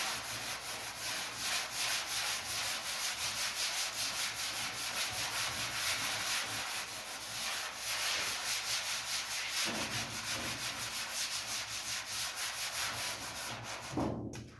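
A 1956 Chevy hood is scuffed with sandpaper in steady back-and-forth strokes, a loud continuous rasping rhythm that stops briefly near the end.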